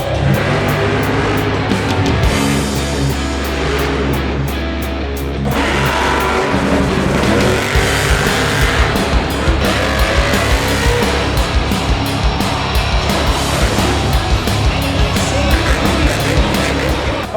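Monster trucks roar around a show course, engines revving and surging in loud, sustained bursts with tire noise, the rumble continuous throughout.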